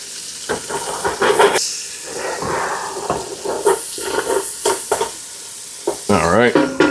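Chopped onion sizzles in a hot pan for chicken cacciatore while a spoon stirs it, with steady frying hiss broken by repeated scraping strokes and clinks close by.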